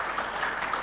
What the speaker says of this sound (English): A resounding applause with you